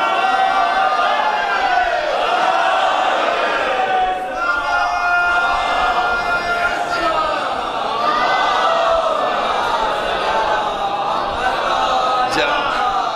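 A large seated gathering at a majlis in Lucknow chants salawat and slogans together, a loud, continuous massed chorus of voices swelling and falling in waves.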